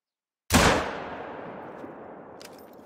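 A single loud, close rifle shot rings out during an ibex hunt in the Spanish setting of Hunter: Call of the Wild, its sharp crack trailing into a long rolling echo, with no talk over it.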